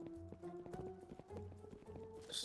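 Horse hooves galloping in a first-person shooter video game, rapid clip-clop steps running steadily under game sounds throughout.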